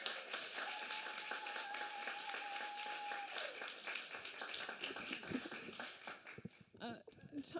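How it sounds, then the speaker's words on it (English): Steady applause from an audience at a fringe-festival storytelling event, moderately distant and continuous, with a sustained tone and voices appearing toward the end. "Can you give a huge response and huge applause for Ellen Waddell?"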